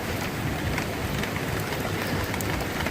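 Steady rain falls outdoors during an oil change on a 2002 Toyota Camry, a dense, even hiss of drops on surfaces that runs unbroken for the whole stretch with no talking.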